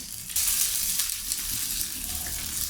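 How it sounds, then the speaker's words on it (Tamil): Curry leaves sautéing in hot oil in a pan for masala dosa filling, a loud bright sizzle that flares up sharply after a brief quieter start and then holds steady. "கருவேப்பிலை, கறி லீஃப் நல்லா வதக்குவேன்."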